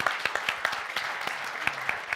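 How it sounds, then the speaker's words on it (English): An audience at a live climate-action event gives a light round of applause: sparse, distinct claps that are spaced irregularly and come through at moderate loudness. "so we should give a round of applause for that"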